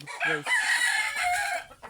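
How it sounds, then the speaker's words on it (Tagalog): A rooster crows loudly and close by, its long harmonic call stretching across the moment, with hens clucking in the background. "kasama ko guys sa mga manok ko"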